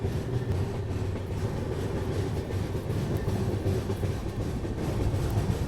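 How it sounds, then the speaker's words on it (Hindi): A WAG 9HC electric locomotive from the KGM shed at KR Puram station, heard as a steady, loud, continuous rumble of rolling train wagons with faint clickety-clack. "केआरपुरम का लोकोमोटिव यहाँ पे, WAG 9HC KGM शेड।"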